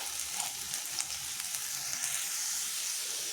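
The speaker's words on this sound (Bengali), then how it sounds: "গ্যাস কিন্তু আস্তে দিয়ে এটা ঘিয়ের সাথে ভালো করে একটু ভেজে নিচ্ছি" Boiled papaya fries in ghee over a low gas flame, making a steady, close sizzle and crackle, with light stirring scrapes and small pops spread across it.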